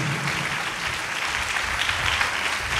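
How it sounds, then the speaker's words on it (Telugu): A church congregation at a Telugu Christian worship service claps loudly and continuously in a dense, sustained wash of applause, with no voices over it. "చప్పట్లు కొట్టండి గట్టిగా"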